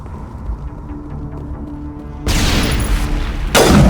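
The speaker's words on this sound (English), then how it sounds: "accidentally threw a grenade" A grenade explodes in Mass Effect with a loud broadband burst after a low rumble, followed by a second sharp blast at the end.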